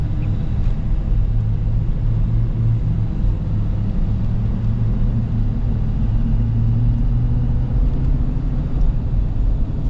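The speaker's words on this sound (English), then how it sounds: "I really do like how smooth this power stroke is" Ford Super Duty with a Power Stroke diesel engine, a steady low rumbling idle running smooth and continuous throughout, with no voices over it.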